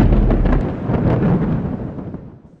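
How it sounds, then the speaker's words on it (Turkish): A loud, deep rumble of thunder rolls for a couple of seconds and gradually fades away, heard on its own without any voices. "şimşeklerin şiddetli sesiyle uyuyan kişileri bile uykusundan uyandıran gök gürültüsüyle"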